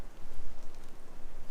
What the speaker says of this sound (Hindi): बारिश का मौसम है